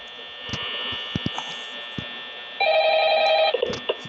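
A telephone rings in the office of the Five Nights at Freddy's video game, a short bright electronic trill partway through, heard over a steady electrical hum with scattered clicks and brief vocal sounds.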